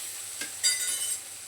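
Asafoetida sautéed in hot tempering oil for dal, a short close sizzle with soft stirring scrapes that rises sharply midway and holds steady.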